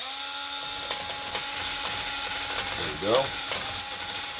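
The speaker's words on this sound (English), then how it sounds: "My drill needs a little bit more power" A power drill bores a hole for a pipe, giving a steady mechanical whine with ratcheting clicks and a brief rising-and-falling pitch sweep near the end, with a voice speaking briefly.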